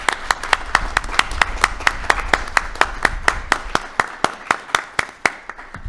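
Brief applause at the close of a seminar, made of sharp, evenly spaced hand claps in a steady rhythm, fairly close, thinning out and fading toward the end.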